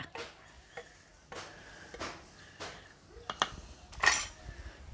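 Lamb head brain dropped into a simmering village-style curry pot, with clinks of a metal spoon and pot in short bursts, a few sharper knocks near the end, nearby and moderately loud.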